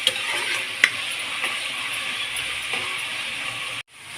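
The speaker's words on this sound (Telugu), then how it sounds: "బాగా ఎర్రగా వేయించుకుందాం." Chopped onions, green chilies and cumin seeds fry in oil in a pan, a close, steady hiss and crackle with a few stirring clicks before it cuts off suddenly.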